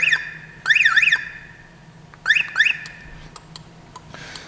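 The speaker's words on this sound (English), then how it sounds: "Then you get the alarm horn." An Aliexpress aftermarket car alarm system with remote start sounds its horn in sharp warbling siren bursts, two quick pairs separated by short pauses, fairly close and clear.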